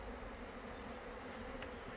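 Honey bees buzz in a dense, continuous drone inside a jar during a varroa mite alcohol wash, a faint, steady hum lasting the whole moment.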